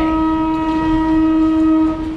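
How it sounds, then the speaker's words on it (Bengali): A Lalgola MEMU passenger train comes in on the down line at Dankuni, a loud, steady electric drone with sustained tonal whine that holds throughout and eases slightly at the end. "যে ট্রেনটা আসছে এটা মনে হচ্ছে লালগোলা মেউ প্যাসেঞ্জার ডাউনে"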